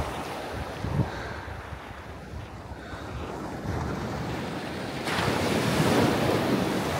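Ocean surf rushes in steadily around a World War II bunker, mixed with gusty wind noise, the wash growing louder and fuller as a wave comes ashore near the end.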